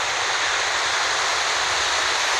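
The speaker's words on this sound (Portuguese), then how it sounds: "a água invadiu aqui" Floodwater rushes into a flooded gold-mining pit with a steady, loud broadband roar of pouring and churning water, continuous and unbroken throughout with no voices.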